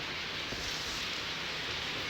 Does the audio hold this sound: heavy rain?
yes